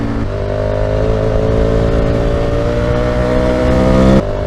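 A motorcycle rides along a road on cold Dunlop Trailmax Raid 50-50 knobbly tyres, giving a steady, loud engine drone with a rising pitch that stops abruptly near the end.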